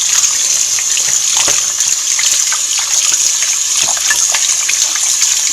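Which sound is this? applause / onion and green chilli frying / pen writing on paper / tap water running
tap water running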